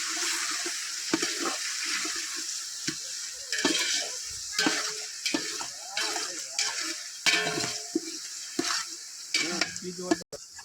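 Onions fry in a pan with a steady loud sizzle while a spoon stirs and scrapes through them in repeated rough strokes, close by.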